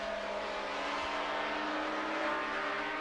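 500cc Grand Prix racing motorcycles from 1979 at the Venezuelan Grand Prix, a sustained high engine whine heard at a distance, steady and unbroken without voices.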